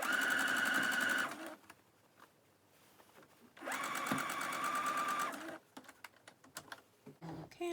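A sewing machine stitches fabric for a smock dress in two loud, rapid bursts, the second a run of back stitches, with quieter handling noises in the pause between and a few faint clicks after.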